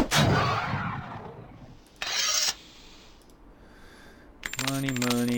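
Gold coins are looted in the fantasy role-playing game Avernum, with short metallic clinking bursts standing out against a rushing, fiery rumble that opens the scene and a bright, ringing chime near the end.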